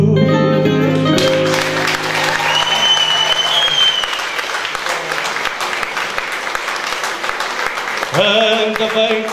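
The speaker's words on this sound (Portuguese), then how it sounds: "Palmas para a Carmencita" An audience at a live fado performance applauds singer Carmencita, steady loud clapping that swells in after a short musical passage, continues throughout and is joined by music again near the end.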